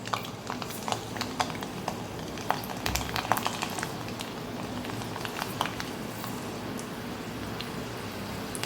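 Garlic cloves crackle and sizzle in hot oil in a kadai, a quiet steady frying hiss dotted with small pops throughout, with no talking.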